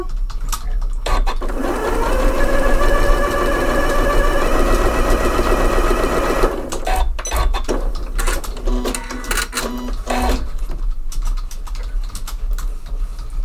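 Janome Memory Craft 9480 sewing machine stitches in a steady rapid whir for several seconds, then stops and gives way to shorter bursts and clicks as the work is adjusted.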